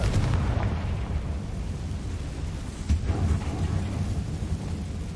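A Confringo spell explosion from Hogwarts Legacy hits as a loud, thick roaring blast with a rumbling, thunder-like tail and a small sharp pop midway, with no voices.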